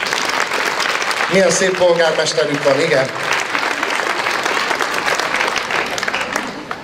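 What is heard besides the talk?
audience applauding at folk dance festival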